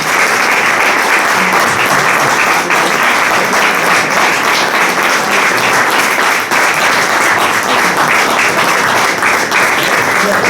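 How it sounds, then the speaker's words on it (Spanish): Sustained, dense audience applause fills the room after a talk at an energy conference in Madrid, loud and steady from start to finish with no pauses. "Vamos a darle un aplauso."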